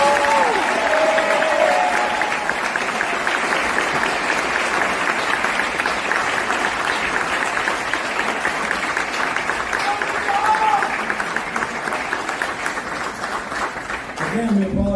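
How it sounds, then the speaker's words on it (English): A ceremony audience gives a sustained round of applause as a young man is honored, dense steady clapping filling the room at full volume with a few voices and cheers mixed in before it thins near the end. "no one tonight deserves a bigger round of applause than this young man"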